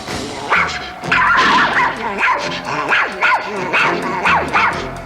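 A dog named Pip barks and yips excitedly in a rapid, repeated series, loud and close, with whining tones between barks.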